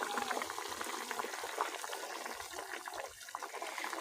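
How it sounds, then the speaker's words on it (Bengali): Katla fish simmering in a thick gravy in a pot, bubbling steadily and continuously at close range with a soft hiss and frequent small pops, no voices over it. "মাছ আর গ্রেভি একসঙ্গে 1 মিনিট মতো ফুটে গেছে"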